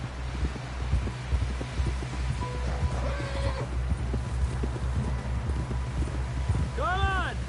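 In Red Dead Redemption 2, horse hooves clip-clop steadily through the whole stretch, and a close horse whinnies loudly near the end.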